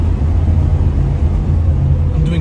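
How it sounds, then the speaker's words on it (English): A 1977 Pontiac Trans Am SE400 is driven while handling, its engine a loud, steady low rumble from inside the car, with no clear changes in pitch. "look how this thing handles around."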